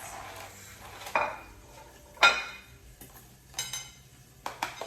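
Dishes and cutlery clatter in a kitchen while a plate is fetched, a few sharp ceramic knocks and clinks spaced over a few seconds against a quiet background.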